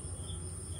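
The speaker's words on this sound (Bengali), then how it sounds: "আমাদের পিছনে এখন শুধু ঝিঝি পোকা ডাকছে আর টিপ টিপ টিপ টিপ করে বৃষ্টি পড়ছে" Crickets chirp at night under light rain beside a countryside resort balcony: a steady, unbroken high-pitched chirring, faint and continuous, with no voices.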